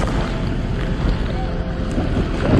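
Wave from a collapsing glacier bridge rushing toward a boat, heard as a steady, loud roar of churning water and wind noise that swells slightly toward the end, with no clear speech.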